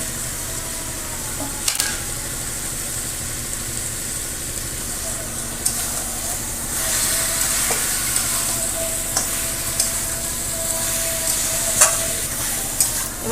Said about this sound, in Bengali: ভালো করে কষিয়ে নেব মাংসটাকে সুন্দর করে কষিয়ে নেব